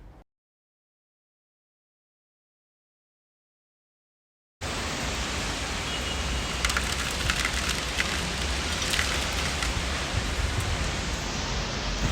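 Rain pours steadily outside a balcony, a dense hiss of drops hitting surfaces that begins abruptly after a silent stretch and continues evenly and fairly close.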